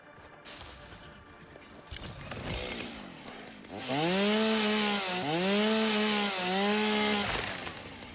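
A chainsaw cuts wood in the video game Satisfactory, first idling and revving, then a loud sustained cutting whine with pitch dips as the blade bites, heard up close with no talking.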